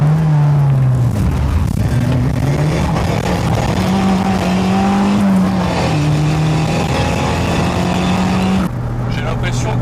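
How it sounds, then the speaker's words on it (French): A car engine revving hard with the accelerator pedal floored, a loud continuous drone whose pitch climbs, dips and climbs again as it pulls through the gears. "La pédale d'accélérateur a l'air d'accélérer jusqu'au fond."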